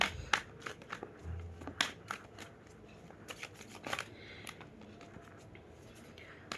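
Tarot deck being shuffled by hand in a quiet room, with a series of irregular soft riffling and flicking bursts, some crisp and close, spread across the whole stretch with no talking.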